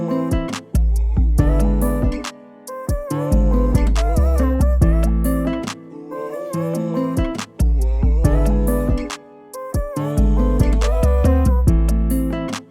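A full beat made with the Arturia LX24, every track routed to one shared reverb bus, plays continuously with dense drums, bass and chords blended in a single natural-sounding room, loud and up front with no talking.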